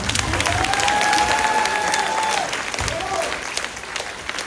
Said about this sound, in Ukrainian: Оплески, оплески.